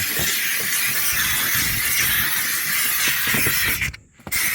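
Steam cleaner hissing steadily while steaming a car interior during detailing, a continuous loud jet of steam with faint mechanical rattles beneath, briefly cutting out near the end.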